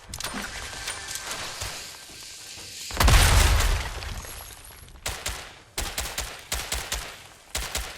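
Rapid bursts of gunfire in the video game Fortnite with a heavy blast near the middle, then repeated sharp shots in quick succession, loud and close.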